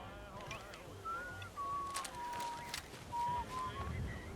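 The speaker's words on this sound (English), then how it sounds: "Don't whistle, it's annoying." A person whistling in short thin tones, a few sliding and held notes spread across a quiet outdoor background with light wind.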